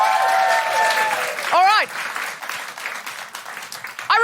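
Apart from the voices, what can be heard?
comedy show audience applause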